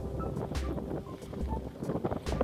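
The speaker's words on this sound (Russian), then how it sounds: "ветер очень сильный, шумит, играет в деревьях" Strong, gusting wind roars continuously through trees, buffeting the microphone with low rumbling surges and airy rushes rising and falling throughout, on a cold-water spring fishing outing.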